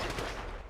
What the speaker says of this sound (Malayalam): അല്ല ഇവന്മാരെന്തിനാണ് ഈ വെടി വെക്കുന്നത് ഇവിടെ ഏബിള് നിന്നിട്ടും?